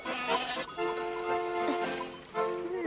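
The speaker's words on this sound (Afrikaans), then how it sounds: "En daar oorkant is so waar bokke." Goats bleating across a pasture in an animated children's series, several wavering, drawn-out bleats overlapping at moderate distance, with no talk during them.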